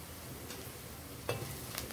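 Ginger-garlic paste sizzles in hot oil for a fish curry, a steady close frying hiss with a sharper crackle burst partway through and light utensil sounds, no talking.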